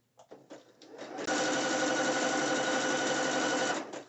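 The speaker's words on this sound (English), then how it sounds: "So I'm sewing right on top of it." A sewing machine stitches over braided elastic in one steady, close, whirring run of about two and a half seconds, preceded by a few soft handling clicks.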